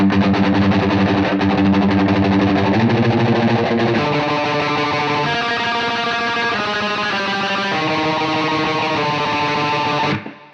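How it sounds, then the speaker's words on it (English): Distorted electric guitar played with a thin pick that flaps against the strings plays a steady run of notes with a bright, percussive picked attack, sustained and loud before cutting off at the end. "it actually gives you this extra kind of percussive sound just by the way it just sort of flaps against the strings"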